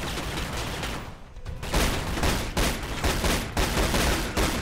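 Rapid gunfire in the Riddick video game, a dense stretch of shots that breaks off briefly and then resumes in loud repeated bursts, with no talking over it.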